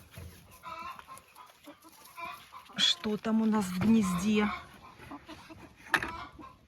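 Hens cluck and chatter in a coop, with a rooster-like call rising loud around the middle, while a person speaks over the birds near and off and on throughout.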